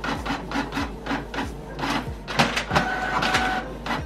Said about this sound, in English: now I'm just going to print it off and see what it looks like